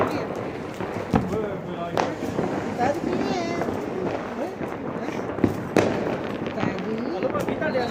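Diwali firecrackers in Amritsar popping and cracking in several sharp separate bursts spread through the stretch, over busy outdoor commotion, footsteps and nearby people talking.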